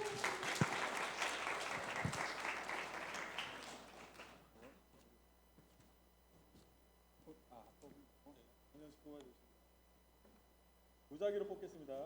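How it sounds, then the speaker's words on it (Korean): An audience at a summer church retreat bursts into loud applause that fades away over about four seconds, followed by a quiet room and a voice speaking. "박수 한번 주십시오"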